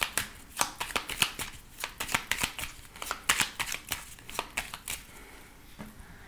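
A deck of oracle cards riffles and slaps through a close, soft run of shuffling, with many quick papery flicks that thin out toward the end as the deck is cut.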